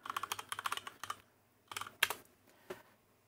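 Computer keyboard typing in quick bursts of close, crisp keystrokes, a pause, then a few more scattered taps, as a folder name is typed.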